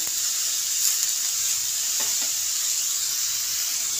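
Vegetables lightly frying in hot oil in a pot for vegetarian bhog khichuri show up as a steady, close sizzling hiss that runs throughout, with a couple of soft stirring scrapes and no voices.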